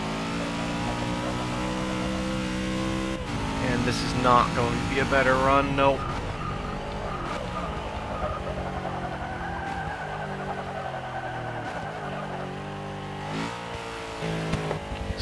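A 1970 Chevrolet El Camino races a time attack in the Forza 6 video game, its engine revving and tires squealing through corners under steady commentary.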